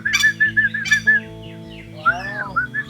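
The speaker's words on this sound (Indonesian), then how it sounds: "Ini angsa hitam." A black swan gives several short, squawking, honk-like calls close by, in bursts separated by brief pauses, over a steady rhythmic background hum.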